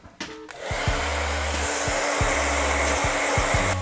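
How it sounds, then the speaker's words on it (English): A hair dryer blows loudly and close while hair is brushed through during a barbershop styling, a steady roaring whoosh with rhythmic dips in the motor tone as it moves. "I'm going to do that as I'm drying it"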